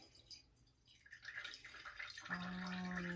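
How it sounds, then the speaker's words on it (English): Water trickles and drips through a clean filter during an ocean-water cleanup experiment, starting faint and sparse, then building into a steadier, louder trickle of small drips near the end. "I'm going to pour the water back through again, through the clean filter for a second round of"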